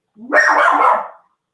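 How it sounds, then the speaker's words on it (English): A dog gives one drawn-out, yelping bark lasting about a second, loud and close, with no talking over it. "Hush, dog. Hush."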